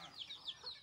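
Ducks and chickens on a Bangladeshi backyard poultry farm clamor for their afternoon feed, with several short, squawking calls rising and falling in quick succession, fairly faint and close.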